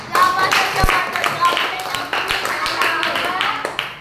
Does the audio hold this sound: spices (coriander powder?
no